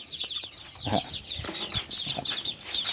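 Young fowl from a Thai gamecock breeding line cluck and call in short bursts, fairly close, with soft scuffling and a faint bird chorus behind them.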